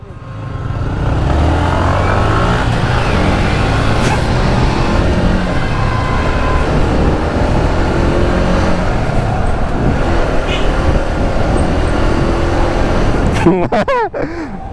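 Honda CBR and Yamaha MT15 motorcycles in a drag race, a loud sustained engine roar running through the whole stretch, with a sharp rising rev burst near the end, and voices are also detected.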